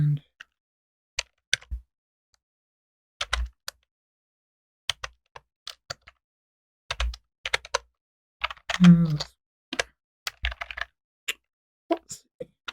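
Punctuation and symbol keys struck on a computer keyboard, sparse irregular clicks and taps in small clusters separated by pauses, close and clear, with a brief voice heard once in the middle.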